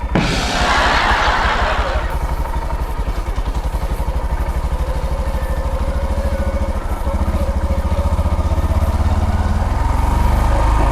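A Honda Monkey motorcycle with a manual clutch rides along in first gear, its small engine putting out a steady, close, buzzing putter that rises briefly at the start and then holds an even, rhythmic note.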